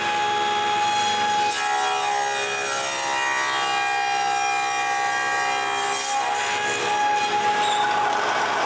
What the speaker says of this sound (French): je vais faire comme mes prototypes et couper des queues droites